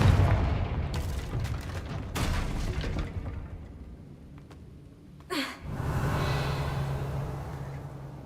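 The Confringo fire spell is cast in Hogwarts Legacy, producing dull booming bursts, one sharp blast near the end, and a steady low rumble afterward, with no speech.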